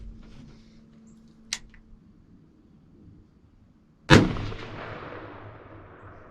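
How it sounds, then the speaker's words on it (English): A single scoped rifle shot cracks loudly outdoors, followed by a short decaying echo; an earlier fainter sharp snap precedes it against a quiet background. "One last shot."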